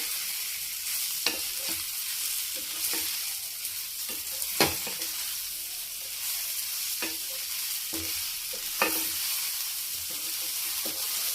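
Mini idlis fry in a spiced masala in a pan with a steady, close sizzle, broken by occasional sharp clicks and scrapes from stirring, and no talk.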